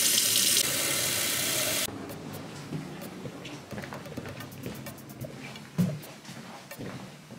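Water poured from a cup onto a houseplant in a new apartment: a steady splashing pour for about two seconds, then a quiet room with faint birdsong and small knocks.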